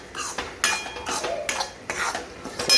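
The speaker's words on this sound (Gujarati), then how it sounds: "સરસ આપણે ઘીમાં શેકી લઈએ." Broken wheat is roasted in ghee in a kadai while a metal spoon stirs and scrapes against the pan, making several quick, close clinks and scrapes.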